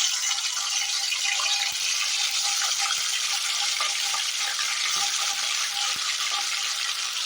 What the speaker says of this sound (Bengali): এবার আমি একে একে চিকেনের পিসগুলো খুব ভালো করে ভাজার জন্য দিয়ে দেবো